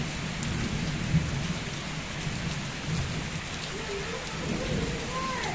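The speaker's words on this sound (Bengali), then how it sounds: "কালকের একটু দৃশ্য আপনাদের সঙ্গে শেয়ার করলাম এই যে বৃষ্টি হয়েছিল সেটা" Steady heavy rain pours down with a constant hiss and low rumble, no voices, continuous throughout.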